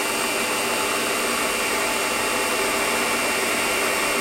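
A toolpost grinder on a Warco lathe runs steadily, a loud, continuous high-pitched whine and hiss with no breaks, close up and alone.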